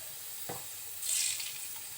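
Salt and turmeric powder hit hot oil in a pan for a prawn bhuna, giving a soft, faint sizzle that swells briefly in the middle of a quiet background.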